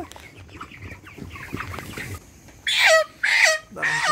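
Chickens on a poultry farm cluck and squawk close by, with softer scattered clucks giving way to several loud, sharp calls in quick succession near the end.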